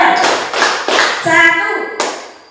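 A group in a training session claps together in a counted pattern: short bursts of a few claps, a pause, then another burst, with voices speaking between the rounds.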